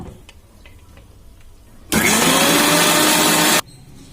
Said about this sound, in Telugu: దీన్ని మిక్సీ పట్టుకుందామండి